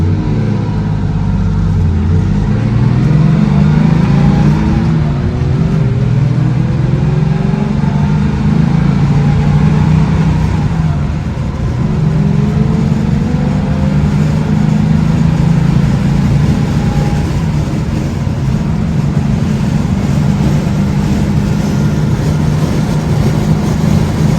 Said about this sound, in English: First time in 45 years this car has been on the road under its own power